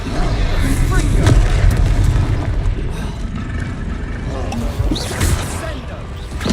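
Confringo spell blasts in Hogwarts Legacy combat: dense, rumbling booms and crackling impacts roll on continuously at loud level, with voices talking over the chaotic fight.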